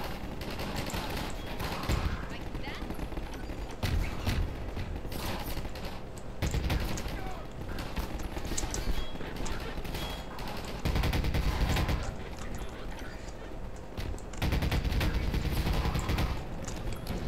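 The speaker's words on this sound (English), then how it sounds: "I do not like using this gun." Gunfire rattles through a Half-Life 2 firefight in short bursts every couple of seconds, layered over a steady, noisy backdrop of game combat sound.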